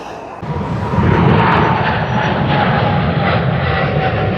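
A fixed-wing airplane near Heathrow airport roars loudly and steadily, the engine noise swelling within the first second and holding as a broad rushing drone, with no talking over it.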